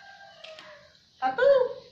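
A bantam chicken crows in a short, loud burst near the end, after quieter voices and background sounds.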